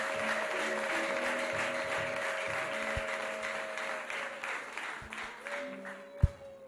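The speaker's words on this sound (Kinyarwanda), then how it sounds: "ndumva twakoma amashyi kubw'ijambo ry'Imana" A church congregation claps together in sustained, fairly even applause with scattered louder hand slaps, a low hum underneath and a sharp thump near the end.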